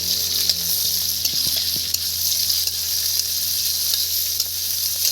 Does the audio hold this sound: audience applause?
no